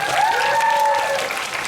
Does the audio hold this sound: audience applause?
yes